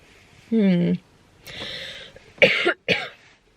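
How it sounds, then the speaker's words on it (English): A voiced throat sound followed by several harsh coughs, close and loud, separated by short pauses. "just coughing at the thought of it make my eyes water"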